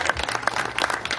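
Audience applause at the opening of an industrial and commercial expo, a brief burst of scattered clapping from a crowd.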